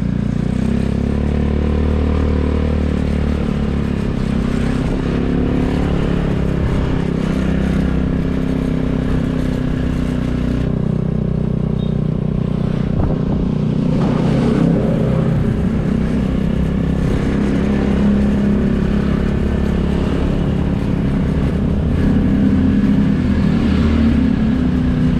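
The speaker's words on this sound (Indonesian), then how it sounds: "tapi khusus sepeda motor ya di sini." Motorcycles riding along a narrow shortcut back road in Bali between Pererenan and Canggu, a steady close engine drone with passing bikes, clatter and occasional revving, no talking.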